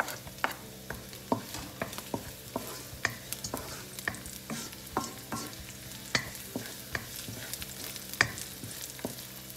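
Garlic and onion sauté in a pan under a soft, even sizzle, punctuated by regular sharp clicks and scrapes of a utensil stirring.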